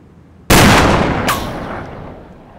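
A single sharp gunshot from a rifle at shooting practice, close and loud, followed by a second crack and a long echoing decay.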